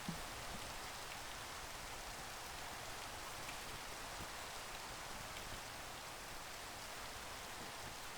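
Constant hiss of steady rain in the video game StarCraft, even and unbroken throughout, with no voices.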